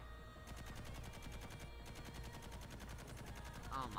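Rapid automatic gunfire crackles through a firefight in a virtual reality shooter game, dense repeated bursts that stay steady and fairly loud throughout.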